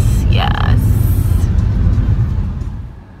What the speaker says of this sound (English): Check out all that traffic.